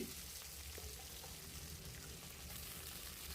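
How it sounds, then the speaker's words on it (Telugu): Large chopped onion frying in oil with mustard and cumin seeds, a faint, even hiss of sizzling that continues throughout, with no speech. "ఈ ఉల్లిపాయ మంచిగా బ్రౌన్ కలర్లోకి వచ్చేదాకా వేయించుకోవాలి"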